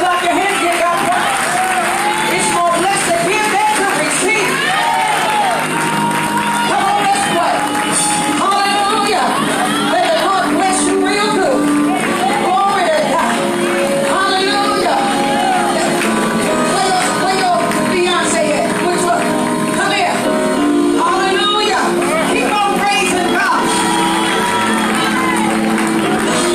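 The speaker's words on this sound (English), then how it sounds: "Somebody clap your hands." A church congregation at a birthday celebration claps and cheers loudly and without a break, with whoops and raised voices throughout a dense crowd roar.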